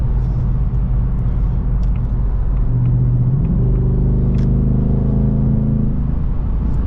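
A 2024 Ford Mustang GT with a 10-speed automatic rumbles steadily up to speed. The low engine drone climbs in pitch as it accelerates, loud and close, with no talking over it.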